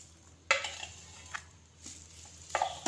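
Spoon stirring spices into mutton karahi in a pan, with a soft sizzle and a few sharp scraping strokes against the metal, close and alone with no talk.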